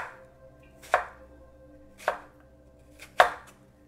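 A knife chops ingredients into long sticks for ceviche, three sharp, evenly spaced chops on a cutting board, close and distinct against a quiet background.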